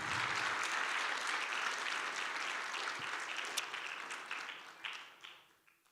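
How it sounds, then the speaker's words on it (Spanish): Congregation in a church giving sustained applause, a dense wash of clapping that gradually thins and fades out toward the end. "Denle un fuerte aplauso a Cristo."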